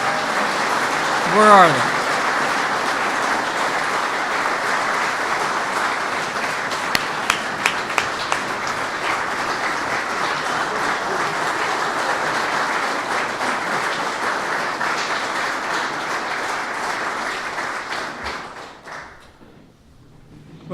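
A large crowd at an Honor Flight event claps for two Gold Star moms, sustained dense applause lasting most of the stretch before fading out, with a voice briefly speaking over it near the start.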